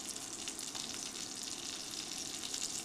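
Seasoned food frying in a pan on an induction burner gives a faint, even hiss of sizzling that holds steady throughout.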